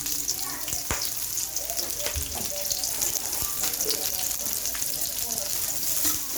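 Chopped onions, added after green chillies, sizzle steadily in hot oil in a pan for a protein-rich paneer dish: a continuous bright crackle with scattered pops, close and moderately loud.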